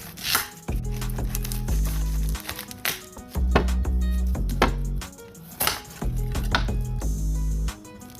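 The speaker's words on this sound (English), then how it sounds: "we're gonna get it started by cutting up some sweet yellow onions" Knife chopping sweet yellow onions on a cutting board, bursts of quick, crisp rhythmic chops close up, broken by short pauses, with no talking.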